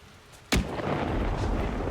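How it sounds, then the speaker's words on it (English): A lightning strike in the fantasy video game Dragon Age: Inquisition cracks suddenly close by, then rolls on as a loud, sustained rumble of thunder. "Lightning struck right in front of me."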